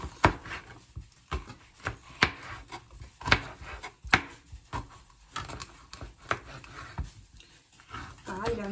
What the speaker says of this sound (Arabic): غادي نكمل التقطاع ديالي ديال الخضرة عادية